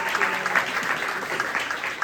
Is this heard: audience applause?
yes